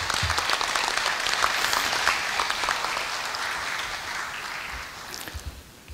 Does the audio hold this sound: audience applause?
yes